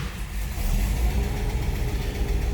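A 1958 Chevrolet Impala with a 348 Tri-Power V8 runs with a steady, loud, close low-frequency rumble and a slight surge, sounding smooth and even throughout with no talking.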